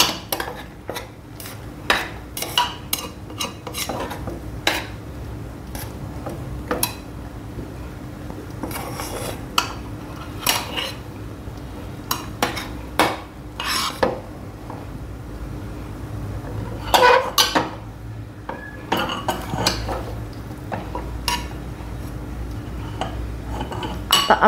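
A cook stirs a shevaya (vermicelli) mixture in a metal pot on a switched-off gas stove, with repeated clinks and scrapes of a spoon against the pot recurring steadily at close range, no talk.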